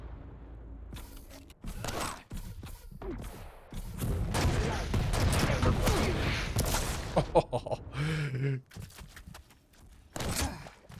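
Two players trade railgun shots in a fast video game duel, with sharp energetic blasts and bursts of gunfire clustered through the middle, broken by quieter gaps and mechanical effects.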